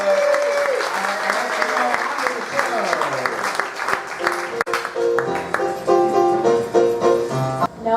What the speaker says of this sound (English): Let's give our expert panel a big round of